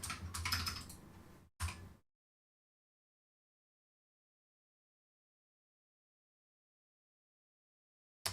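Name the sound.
typing on a clicky computer keyboard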